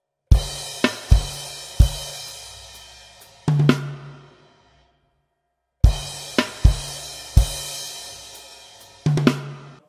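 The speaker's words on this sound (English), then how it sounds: "you've got this crash part that happens" Drum kit crash section from a rock song: loud cymbal crashes with kick and snare hits in a short accented pattern, a pause of ringing silence, then the same crash figure repeated, played alone without talk.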